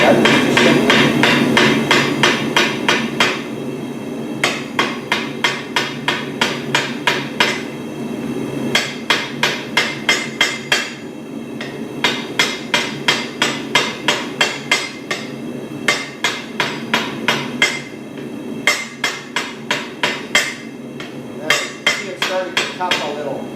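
Hammer forging a metal candlestick holder over the end of an anvil, ringing blows in quick rhythmic bursts with short pauses between runs, loud and close, with faint talk in the background.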